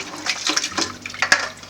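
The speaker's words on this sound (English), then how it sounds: "So we'll just pour it into the colander" Dark red zobo drink is poured through a colander into a glass bowl, giving a steady splashing, gurgling stream close by with no talk.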